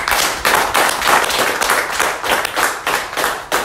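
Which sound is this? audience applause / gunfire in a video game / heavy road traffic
audience applause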